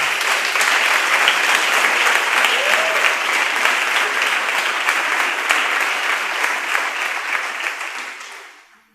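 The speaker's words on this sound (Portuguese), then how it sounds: "Aplauda o Senhor e glorifique o seu nome." A church congregation applauds together, a dense, steady wash of clapping that holds strong for about eight seconds before quickly fading out.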